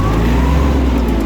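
A Kubota GL32 mini tractor engine revs on the throttle, a loud, steady low mechanical drone held close up with no pauses.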